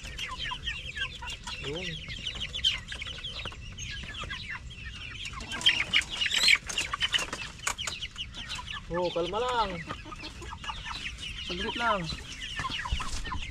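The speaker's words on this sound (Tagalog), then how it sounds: "sa mga nakakulong natin manok" Caged chickens cluck and squawk nearby while a person speaks briefly, with a louder flurry of clucking in the middle.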